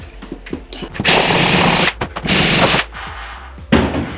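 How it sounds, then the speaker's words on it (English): A power drill bores a pilot hole through a metal duct for a dust collection system. It whines up close in three main bursts of a second or less, with short stuttering starts and pauses between them. "what you have to do is drill a little pilot hole for it"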